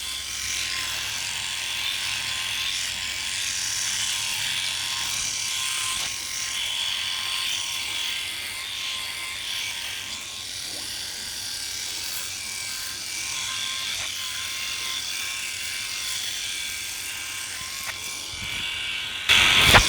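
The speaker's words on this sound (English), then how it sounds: "As with all Phillips shavers, it's not very noisy at all, it's not very loud" A Philips i9000 Prestige electric shaver runs steadily, a soft high buzzing whirr that holds for about twenty seconds, ending with a brief louder rattle.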